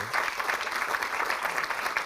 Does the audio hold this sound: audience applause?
yes